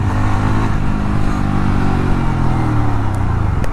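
Yezdi Roadster BS6 motorcycle engine ticking over during a slow tight turn, a close, steady low rumble with slight pitch shifts and no talking.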